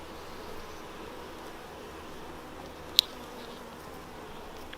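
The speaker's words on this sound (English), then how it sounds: "With lots of adhering bees" Honey bees hum around frames of honey and pollen lifted from a nucleus colony hive, a steady soft drone with one brief sharp click partway through.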